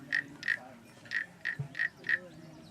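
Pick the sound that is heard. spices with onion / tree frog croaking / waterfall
tree frog croaking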